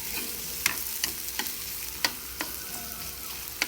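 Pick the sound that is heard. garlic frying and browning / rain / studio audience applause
garlic frying and browning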